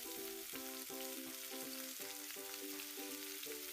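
Flour-coated tempeh, used as imitation meat, fries in plenty of hot oil with a loud, steady sizzle. A regular tonal pulsing sits alongside it, and no one speaks.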